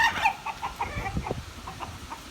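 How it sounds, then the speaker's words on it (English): Too many roosters plus hens clucking and squawking in a noisy farmyard ruckus, short bursts overlapping at close range. "now this is what happens when you have too many roosters"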